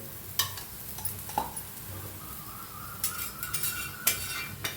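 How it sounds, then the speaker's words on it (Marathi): Dhapate flatbread roasting with ghee on a pan, a quiet soft sizzle with occasional spatula scrapes and small clinks against the pan, no talking. "छान असं भाजून घेऊया तूप घालायचं बघा असं"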